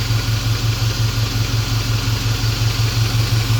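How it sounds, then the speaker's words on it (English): Idling V8-era engine of a 1984 Chevrolet C10 stepside pickup with a suspected ticking lifter or loose rocker arms, a steady rhythmic low throb and pulse heard close up and loud, with no one speaking. "Sounds like a lifter."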